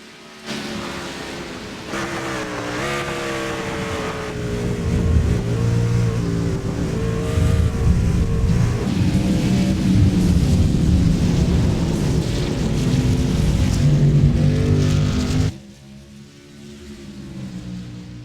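Race car engines roaring at Watkins Glen in the iRacing game, a dense field of cars howling and shifting through gears at full volume, then dropping abruptly to a quieter background drone near the end.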